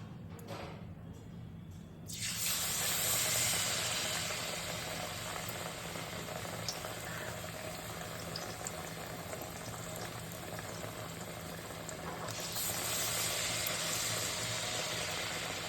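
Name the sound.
pumpkin rice-flour pakoras frying in hot oil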